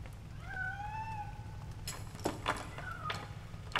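Cat meowing in a video game where the player is chained up in a basement: two or three drawn-out, fairly faint meows over a low steady hum, followed by a few sharp knocks and a short final mew.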